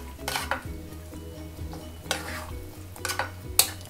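A spoon stirs paneer into a dhaba-style palak spinach curry in a pan, giving several distinct scraping strokes against the metal with a soft sizzle underneath. The strokes come close and fairly quiet, spaced about a second apart, with no talking.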